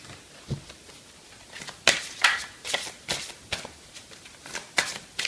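Fairy oracle cards are shuffled close to the microphone in a series of crisp, papery riffles and flicks, quiet at first and then louder, with brief pauses between bursts.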